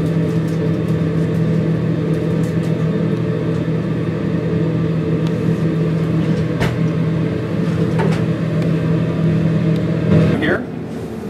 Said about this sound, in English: fan in here that'll take all the fumes and send it elsewhere